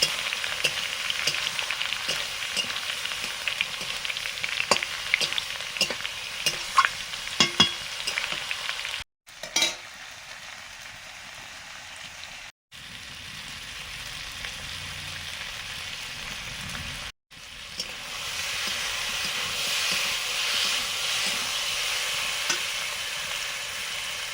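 Snakehead (shol) fish coated in salt, turmeric and chili powder fries in a pan. A loud, steady hiss and sizzle runs throughout, with scattered crackles and three brief silent cuts.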